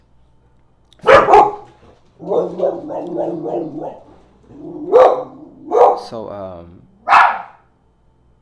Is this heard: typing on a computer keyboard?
no